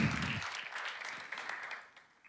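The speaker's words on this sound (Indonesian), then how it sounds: "kita berikan tepuk tangan yang meriah" A church congregation claps enthusiastically in a dense, steady roar of applause that gradually fades toward the end.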